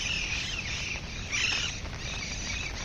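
Birds chirping outdoors during heavy monsoon-style downpour on a hillside route near Mount Abu, high thin calls running steadily over a dense wash of rain and low rumble, no one talking.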